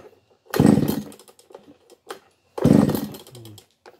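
A two-stroke chainsaw engine runs with its carburetor low screw turned too far clockwise, giving two loud, short revving bursts separated by near-silent gaps, close up.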